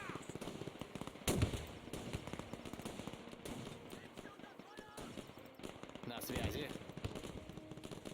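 Weapons fire in a Men of War II battle with Soviet forces: two heavy, sharp blasts stand out, one early and one late, over a constant rumble of distant battle, with someone talking over it.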